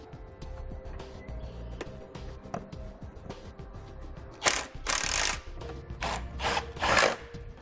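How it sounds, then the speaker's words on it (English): A power tool reinstalls the factory nuts that secure the bumper beam and trailer hitch on a 2018 Ram ProMaster, with bursts of high whirring and rattling after quieter clicks and handling noises, close by. "Now we'll reinstall our factory nuts that secure our bumper beam and our hitch on the bottom"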